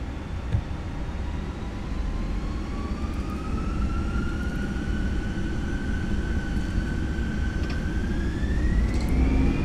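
Fenix A320 airliner in a flight simulator game on its takeoff roll at runway 31 right, Marseille: a steady loud engine roar with a rising whine climbing in pitch as thrust builds, no talk.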